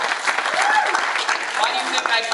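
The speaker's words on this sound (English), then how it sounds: "Clap for that." A convention panel audience at an anime expo claps briefly and moderately loud, with voices talking and calling out over the applause.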